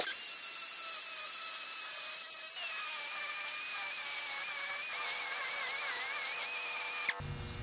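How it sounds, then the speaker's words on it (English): A die grinder cuts material off an XP camper's metal ladder: a steady, loud, high-pitched whine that holds nearly unchanged for about seven seconds, wavering slightly in pitch before cutting off abruptly near the end. "I'm gonna get the die grinder and take some of this material out and see if I can get it to fold flat."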